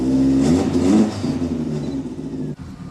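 Old-school Ford Escort engine revving after its idle control screw was turned down, a loud close rev that drops back and settles into a steady run, with a brief dip near the end.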